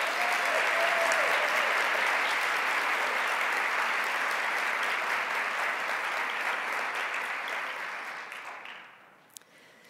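Sustained audience applause at a librarian award ceremony, a dense even clapping that swells loud, holds for several seconds, then fades away near the end.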